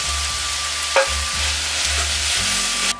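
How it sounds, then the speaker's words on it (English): Greens and onions cook with smoked bacon in a pot, giving a loud, steady sizzle and frying hiss with a low rhythmic bubbling under it. "I'm going to put my onions in there. I'm going to let those cook pretty slow."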